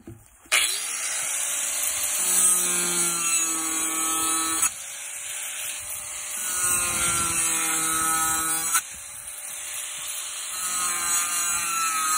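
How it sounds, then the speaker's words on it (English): A cheap angle grinder whines loudly and continuously while cutting drain notches into a frost-free water hydrant pipe, with the cut briefly breaking and restarting a couple of times. "All right, Daddy's using the grinder."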